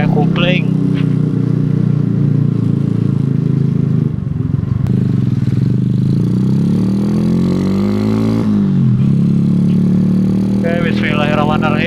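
A Suzuki Shogun SP 125 motorcycle engine runs steadily throughout, its low droning note rising and falling as it is ridden, with a voice talking over it.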